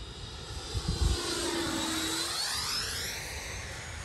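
A Freewing J10 90mm RC delta-wing jet makes a flyby, its ducted-fan whine rising then sweeping downward in pitch as it passes, loud and fairly close, then fading into a steady roar.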